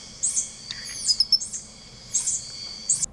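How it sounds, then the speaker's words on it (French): A tarsier calls with a series of very high-pitched, thin squeaky chirps in short clustered bursts, fairly close and clear against a quiet background, with no voices. "je vous laisse écouter un cri de tarsier"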